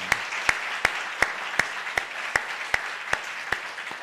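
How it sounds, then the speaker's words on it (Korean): Congregation at a Sunday church service clapping in slow, even unison, about ten evenly spaced sharp claps over a soft room background. "우리 박수 한번 할까요?"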